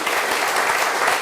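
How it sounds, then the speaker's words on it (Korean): A church congregation at a worship service claps to encourage its missionaries: dense, steady applause from a crowd that fills the whole moment at an even, strong level. "자랑스러운 피어워터 우리 신탁권들에게 한번 격려의 박수 한번 올려주시면"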